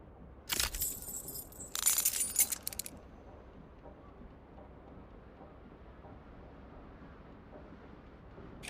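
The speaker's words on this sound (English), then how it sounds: "Keys are clinking in the pocket of your flare-cut pants." Keys jingle in a trouser pocket in the game Disco Elysium, two short bright bursts of metallic clinking near the start, then a quiet background.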